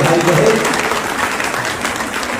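A crowd claps loudly at a train launch event in Godda, with steady, dense applause filling the whole moment and a voice faintly audible beneath it.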